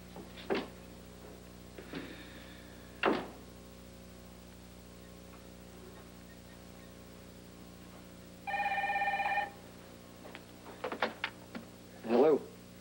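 A payphone rings in a short electronic burst amid scattered clicks and handling noises at a quiet booth, with no voices during the ring.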